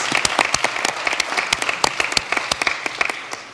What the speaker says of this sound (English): Let's give all the students and families a big round of applause.